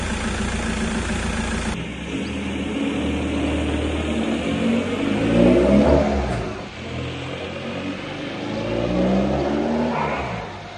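A car with a 1.9 TDI diesel engine cranks and starts, then idles with a low diesel clatter before revving and pulling away, the engine note rising and falling as it drives, loud and close with no talking.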